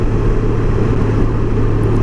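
A car engine pulls hard through a second-gear roll-on power test, a loud, steady low-pitched drone that holds throughout without pause.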